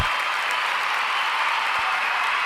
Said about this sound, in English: I'll give that one the nice loud applause.